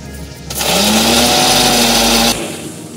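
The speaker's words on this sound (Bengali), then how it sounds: "এর মধ্যে আমি দিয়ে দিচ্ছি টক দইটা, আন্দাজ মতন দিয়ে দেবো। আমি হাফ কাপের মতন দিয়ে দিলাম। এবার এটা আমি বেটে নেব।" A mixer grinder blending a mustard and yogurt paste whirs loudly into a high steady whine for about two seconds, then cuts off abruptly.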